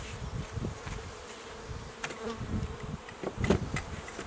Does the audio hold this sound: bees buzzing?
yes